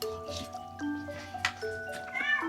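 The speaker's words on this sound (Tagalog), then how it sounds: "Ayun ang pusa, parang gusto niya rin ng pastil." A cat meows and whines several times in drawn-out tonal cries, close and fairly quiet, over faint background noise.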